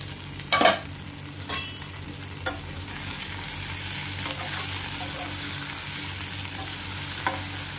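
A spoon scrapes and stirs chutney in a hot pan, with a few sharp knocks early on over a steady soft sizzle throughout; no talking.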